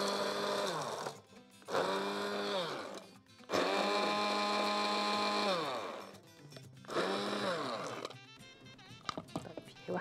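A kitchen blender grinds ginger biscuits in three loud whirring bursts of a few seconds each, the motor pitch dropping as each one spins down, with short pauses in between.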